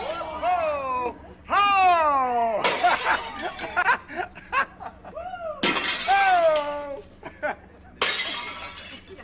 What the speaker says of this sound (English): the Greek plate smashing thing? But a German version?